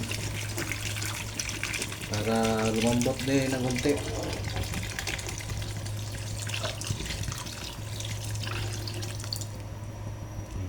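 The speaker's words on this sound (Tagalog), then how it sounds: "Lagyan natin ng tubig" Water runs steadily from a tap into a pot of pork ribs for sinigang, a continuous splashing flow lasting the whole stretch while someone talks over it.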